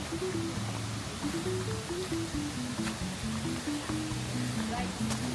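Tangadan Falls waterfall rushing as a steady, broad roar of falling water, with a voice talking over the constant wash.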